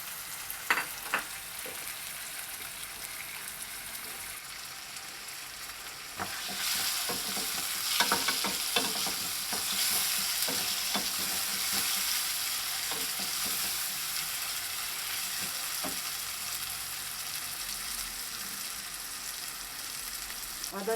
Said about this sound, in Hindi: अब एक बड़े साइज़ का टमाटर है, इसको ऐड करेंगे। थोड़ा सा चमचा चला लें।